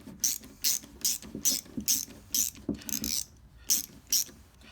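A hand ratchet clicks in about ten quick, even bursts, close and crisp with brief pauses, while snugging nuts fitted with nylon lock washers on a mini arcade control panel.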